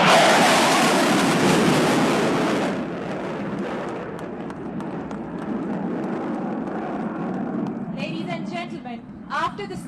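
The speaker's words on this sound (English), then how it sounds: "Approaching from the left of the venue, the Mirage aircraft." A Mirage fighter jet roars past a ceremony venue during a flypast, its loud broadband rush peaking early then fading into a distant rumble while a voice talks over it.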